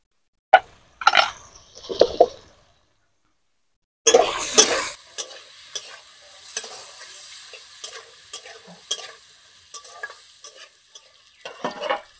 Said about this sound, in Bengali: আলু আর পেঁয়াজটা ভালোভাবে ভাজা হয়ে গেছে